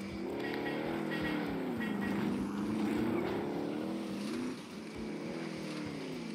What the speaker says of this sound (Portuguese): Era uma moto, mas parecia carro.